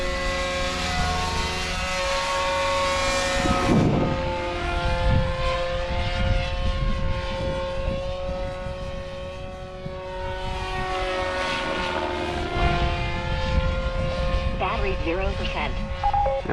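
The motor of a Goblin 500 RC helicopter runs at a steady, loud, tonal whine that dips briefly and then climbs again, with a faint voice in the background.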